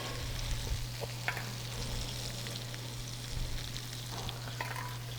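Minced garlic and seasonings fry in a pan with melted fat, a constant close sizzle broken by occasional small crackles and stirring ticks, no voices.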